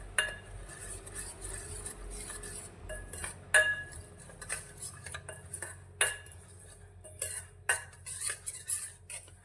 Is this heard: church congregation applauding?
no